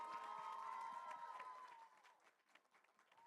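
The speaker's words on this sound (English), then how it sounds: "Let's have a round of applause for Jere Baxter and F.H. Jenkins." Crowd applause, fairly steady at first and then thinning out into scattered claps, with a faint tone running beneath.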